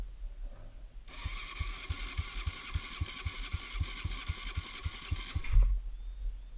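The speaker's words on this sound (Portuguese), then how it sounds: "Já deu partida diferente aqui. Tá fraca a moto." A weak-running dirt motorcycle engine idles with a rough, lumpy rhythm of regular low thumps on a trail, starting after a second of quiet and cutting off near the end.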